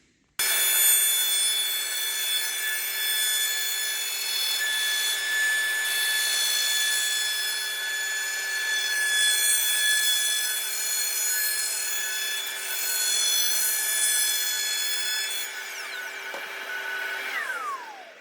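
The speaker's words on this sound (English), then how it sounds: "I'm just going to chamfer the edge of the table now" Router chamfers the edge of a Festool MFT3 table, a steady high-pitched whine running continuously for about sixteen seconds before spinning down at the end.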